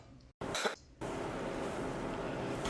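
A couple of sharp, short coughs up close, followed by a steady hissing background noise.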